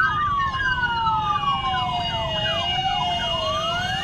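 The siren of a police escort vehicle at a skating rally from Varanasi to Lucknow wails continuously and close by, with overlapping rising and falling tones above a steady traffic rumble.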